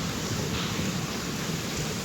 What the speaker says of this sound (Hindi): अल्लाह सबकी हिफाजत फरमाए ऐसे सख्त बारिश है।